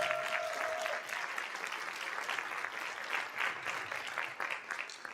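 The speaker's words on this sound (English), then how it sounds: "That deserves a round of applause." Steady applause from a crowd, dense clapping that continues throughout at an even, fairly loud level.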